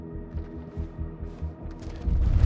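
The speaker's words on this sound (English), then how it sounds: "That's gunfire." Distant gunfire in a video game, a run of muffled low rhythmic bursts followed by a louder, rumbling volley that builds toward the end, with no talk over it.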